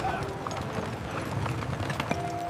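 An eight-horse team hauling two-ton steel beams up a cliffside castle site clip-clops steadily, a continuous run of hoofbeats under a faint background bed.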